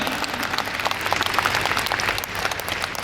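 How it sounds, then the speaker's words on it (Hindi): An audience at a spoken talk on health and food breaks into strong applause, a dense, even clatter of many hands that holds steady for about three seconds without speech. "एक बार जोरदार ताली चाहूँगा आपकी इस बात पे"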